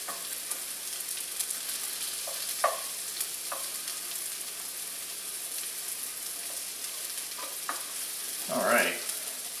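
Pieces of meat sear in a sauté pan with a steady, fairly quiet sizzle, broken by a few soft clicks and a brief stirring scrape near the end.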